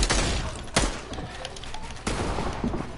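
Gunfire in a video game: loud shots cracking out in quick succession, two standing out sharply near the start and middle, over a dense, steady wash of noise.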